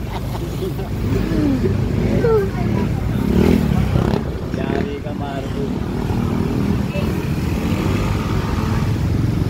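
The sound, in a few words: motorcycle engine revving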